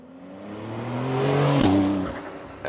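A Porsche 911 Carrera S Convertible engine revs up and swells loudly with the top open, then the pitch drops as it shifts or eases off, loud and close.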